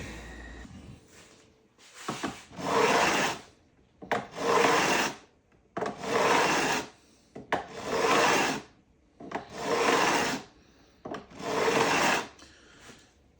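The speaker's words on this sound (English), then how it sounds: "So obviously I'm beveling the frets." A file rasps against the cut ends of guitar frets on an Ibanez Artist during a re-fret, beveling them in six steady strokes of roughly a second each with short pauses between, close and fairly loud with no talking.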